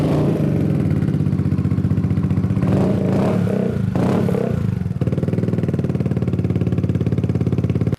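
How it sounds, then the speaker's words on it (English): A 2012 Yamaha Zuma scooter fitted with a Two Brothers racing exhaust idles loudly up close, a steady buzzing putter with a brief blip of revving in the middle before settling back to an even idle. "Now that we've finished installing this Two Brothers exhaust on this 2012 Zuma, we're going to go ahead and give it a start,"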